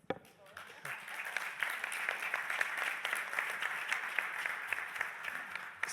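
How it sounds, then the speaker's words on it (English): A conference audience at a healthcare session bursts into sustained applause for healthcare professionals, dense and even clapping that starts after a brief pause and carries on to the end. "please applaud for them."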